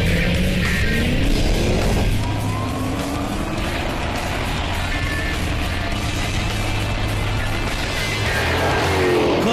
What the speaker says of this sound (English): Sarah's gonna line them up and let them rip.